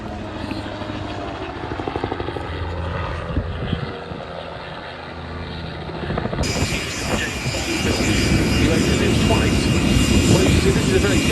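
Autogyro flying at the Duxford summer airshow, its rotor turning: a steady broad aircraft drone and rumble that grows louder and fuller partway through, heard at a distance in the open air amid crowd murmur.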